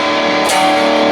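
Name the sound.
distorted electric guitar chords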